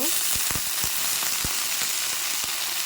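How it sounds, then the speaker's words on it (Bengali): Helencha greens frying lightly in a pan already holding fried potatoes: a dense, even sizzle with a few soft taps of a spatula, close and steady. "এবার দেখো একটু হ্যালেঞ্চাটাও হালকা করে একটু ভেজে ভেজে নেব"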